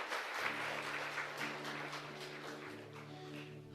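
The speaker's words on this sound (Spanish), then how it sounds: "un fuerte aplauso para todos ustedes" A congregation applauding at the end of Mass in a chapel, a soft, distant patter of many hands under sustained organ or keyboard chords.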